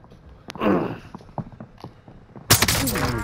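Gunfire in Call of Duty Warzone on Rebirth Island: scattered sharp shots and light footsteps, then a loud, sustained burst of rapid automatic fire that continues to the end.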